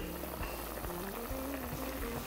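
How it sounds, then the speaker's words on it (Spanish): Water with potatoes in a pot comes to a boil, giving a dense, even bubbling wash with soft pops close by and no talk. "ahí empieza a hervir y yo espero un ratito"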